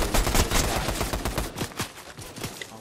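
Rapid bursts of gunfire aimed at the player in the video game Fortnite crackle and rattle densely, loudest at first and then continuing more sparsely over steady game noise.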